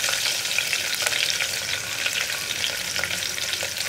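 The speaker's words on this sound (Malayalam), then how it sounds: "ഇതിലേക്ക് ഞാനിപ്പോൾ മുറിച്ച് വെച്ചിരിക്കുന്ന ഒരു സവോള ചേർക്കുകയാണ്" Sliced onion sizzles and fries in hot oil in a pressure cooker, a steady loud crackling hiss with faint stirring scrapes throughout.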